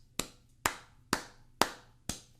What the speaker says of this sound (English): I clap for this.